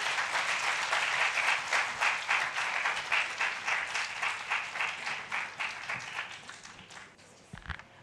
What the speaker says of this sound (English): Girls, we need to applause loudly.